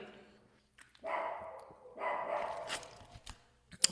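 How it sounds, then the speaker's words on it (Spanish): A dog barks in two muffled bursts, fairly distant and moderately faint, with quiet pauses and a few small clicks around them. "Por ahí el perro como que está ladrando parece."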